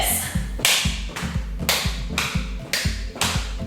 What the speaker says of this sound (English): You can hear my hands clapping and smacking into my thighs